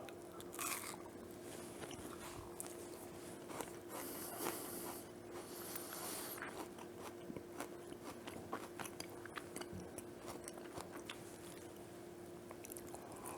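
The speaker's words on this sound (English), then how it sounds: "The crunch is perfect." Crunchy homemade Butterfinger-style chocolate-coated bar being bitten and chewed up close, with repeated crisp crunches and softer chewing over a faint steady hum.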